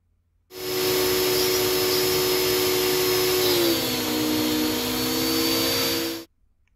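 A steady, loud machine whine from a Grizzly G0959 12-inch jointer planer taking a 1/16-inch pass on wood runs about six seconds, starting and stopping abruptly, with a slight pitch drop midway as the motor strains under the cut.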